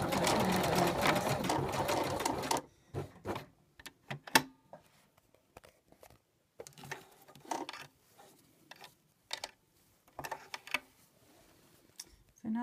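A sewing machine zigzag stitching over elastic for a garment cuff, a steady whirring run at first, then short stop-start bursts of stitching and clicks.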